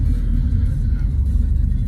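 Dodge Charger Scat Pack 392 widebody, a 2020 model, giving a deep, continuous engine rumble while cruising, close and loud with no talk over it.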